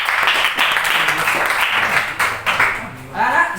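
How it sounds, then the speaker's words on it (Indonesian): Classroom applause, a short burst of many hands clapping close by with voices mixed in, fading toward the end as someone speaks. "Berikan tepuk tangan untuk Iqbal."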